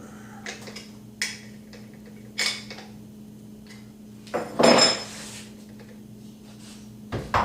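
A thin cutoff disc is tightened onto a Makita cordless brushless angle grinder using the spindle lock. Quiet, close metallic clicks and clanks come at irregular intervals, with one louder rattling scrape in the middle.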